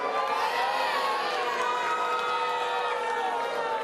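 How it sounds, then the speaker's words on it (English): A studio audience at The Daily Show cheers and whoops in a dense, sustained roar that stays loud and even throughout. "And the crowd loves it"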